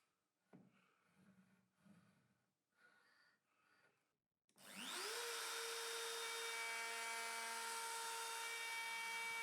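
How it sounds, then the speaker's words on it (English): A wood router, guided by an adjustable router template clamped to a board, starts up after a few quiet handling knocks and rises into a loud, sustained high-pitched whine that holds steady as it mills the wood. "Remember to move the router in the right direction by moving the cutting edge against the material we're milling."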